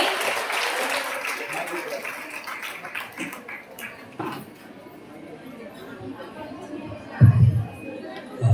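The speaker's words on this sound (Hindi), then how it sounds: "जोरदार तालियों के साथ स्वागत करेंगे।" Applause from a church audience at a Christian women's empowerment workshop as a pastor is welcomed, moderate clapping that fades into crowd murmur and scattered sounds with a couple of louder thumps near the end.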